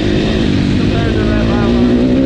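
A Honda CR500 two-stroke dirt bike engine drones loud and steady while being ridden, its pitch holding and creeping slightly upward, with a voice talking over it.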